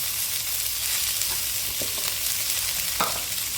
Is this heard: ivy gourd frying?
yes